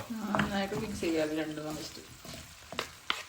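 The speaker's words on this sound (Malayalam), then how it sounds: "2 എണ്ണം വെച്ച് എനിക്ക് മിക്സ് ചെയ്യാൻ ഇഷ്ടം." Two spoons mix ham curry in a pan. A soft, continuous frying hiss runs under a voice at first, followed by a few sharp scrapes and clicks of metal on the pan.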